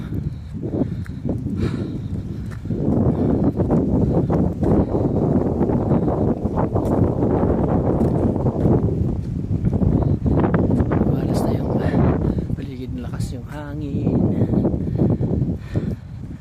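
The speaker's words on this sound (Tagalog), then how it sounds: "ang lakas ng hangin" Strong wind roars and buffets the microphone in a constant loud rumble beside an abandoned house in the middle of a forest, with voices talking underneath.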